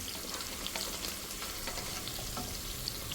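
Green chillies frying in oil as onions go in, a steady, moderately faint sizzle with occasional soft clicks and stirring scrapes running throughout.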